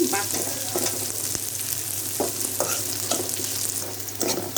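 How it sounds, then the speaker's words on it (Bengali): Onions fry and sizzle in a pan while being cooked for boyal fish bhuna, with a steady close sizzle broken by several bursts of stirring scrapes and no talking. "এখন পেঁয়াজটা আমার হালকা ভাজা হয়ে গেছে, নরম হয়ে গেছে।"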